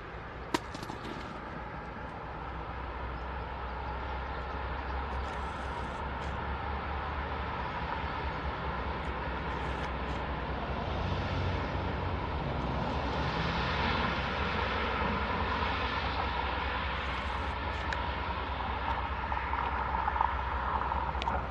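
Long freight train with many racks rolling past steadily at a distance, a continuous low rumble and rattle that holds even and unbroken throughout with no voices.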